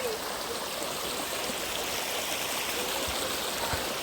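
A waterfall stream flows near a cave temple, a steady, dense rush of water filling the scene at close range with no breaks.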